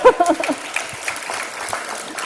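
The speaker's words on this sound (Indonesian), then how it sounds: "Tepuk tangan." Brief, light applause from an audience at a talk with a tech CEO, scattered clapping that fades quickly, with a voice or two mixed in at the start.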